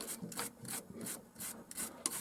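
Old toothbrush scrubbing the sprockets of a 35mm film projector, a quick run of about eight close, rhythmic bristly rasps.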